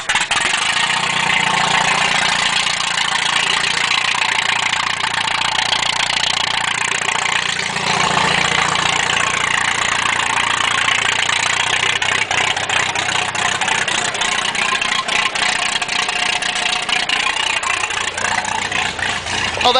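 A small engine turns over on a cold start, catches, and settles into a steady idle that runs close and loud throughout, with the pitch wavering slightly as it warms.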